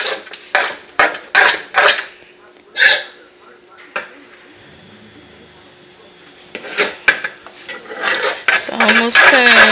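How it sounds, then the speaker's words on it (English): Hot candy coming off the stove and being poured into metal pans, which clatter and clank in a few sharp bursts between quieter stretches, with people talking close by. "The candy's coming off the stove. Now my daddy's about to drop it on the pan."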